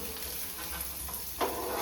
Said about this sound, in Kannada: ಆನಿಯನ್, ಟೊಮೆಟೊ, ಕೊತ್ತಂಬರಿ ಅದನ್ನೆಲ್ಲ ಹಾಕ್ಕೊಂಡು ಫ್ರೈ ಮಾಡ್ಕೋಬೇಕು.